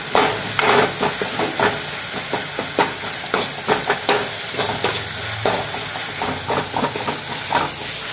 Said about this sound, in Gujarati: સડી જાય એટલે મેગી પાછળ નાખી દેવાની